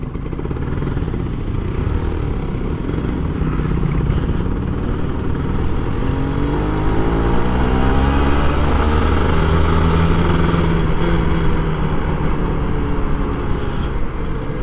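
A Kawasaki Ninja RR two-stroke motorcycle rides through a narrow alley in Jakarta traffic. Its engine drones steadily and loudly throughout, with a buzzing, rattly tone that rises and falls slightly with the throttle.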